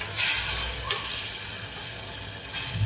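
Stuffed brinjal curry is stirred in a pressure cooker, giving a close, continuous sizzle with soft scraping strokes and a few brighter clinks of the spoon against the pot.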